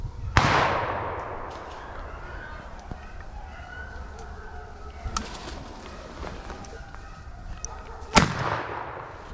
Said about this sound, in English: Somebody should be shooting.